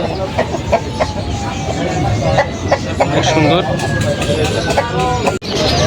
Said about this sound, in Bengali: প্রায় দুই বছর বয়সে একটা মোরগ আসছে বিশাল সাইজের